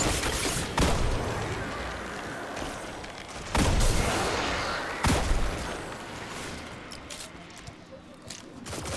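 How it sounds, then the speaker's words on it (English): A hand cannon fires in the video game Destiny 2 during gunsmith bounties: three heavy, booming shots spaced a few seconds apart over continuous game background noise. "Oh, I can switch to hand cannon."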